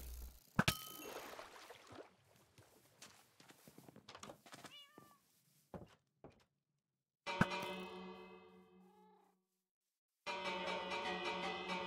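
A bell in the video game Minecraft gives bright metallic dings and clangs, including two ringing strikes that fade out, alongside cat meows and scattered clicks and thuds, with no talking.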